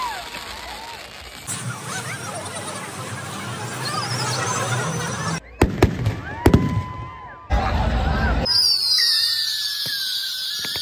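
Firecrackers set off at a Sankranti bomb competition in Andhra crack in sharp, irregular bursts over a steady fizzing hiss, with crowd noise and shouts behind.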